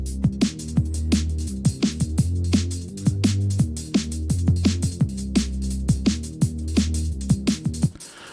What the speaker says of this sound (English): I've got a simple drum and bass beat and an underlying bass, which sounds like this.